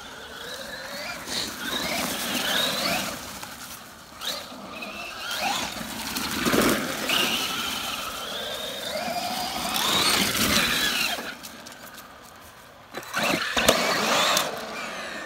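Traxxas Maxx 4S radio-controlled monster truck driving around a parking lot, its electric motor whining and surging up and down continuously with brief drops, close and fairly loud, no talk.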